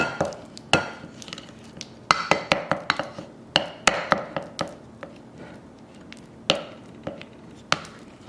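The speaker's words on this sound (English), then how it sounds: "I'm going to mash the butter. I'm going to push it to the sides of the bowl." Butter being mashed and pushed against the sides of a bowl for banana bread, heard as a run of sharp utensil knocks and scrapes in uneven bursts, fairly close and with no talking.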